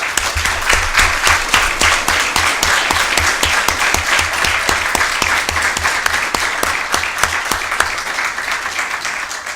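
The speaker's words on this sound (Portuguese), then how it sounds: "peço a todos vocês uma salva de palmas para essas policiais militares" An audience in Goiás gives a loud, dense round of applause to female military police officers, sustained and unbroken with many hands clapping close together and no voices over it.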